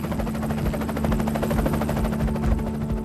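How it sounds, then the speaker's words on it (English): A US military helicopter's rotor thumps in a fast, steady pulse over a constant engine drone, loud and continuous throughout. "US helicopters flew over the border from Afghanistan into Pakistan."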